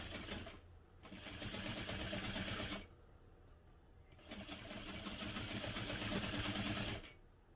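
A sewing machine backstitches through vinyl along a 1/8 inch seam, running in two close, steady bursts of rapid stitching separated by a short pause, with no talking.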